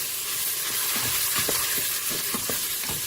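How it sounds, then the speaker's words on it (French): Meat browning in butter in a Cookeo multicooker for Flemish carbonnade, a soft constant sizzle with scattered scrapes and knocks of a utensil stirring it. "je vais faire venir ma viande. Donc je tourne, je remue bien"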